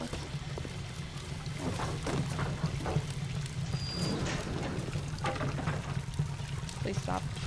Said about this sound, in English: I stopped moving and the water's still moving.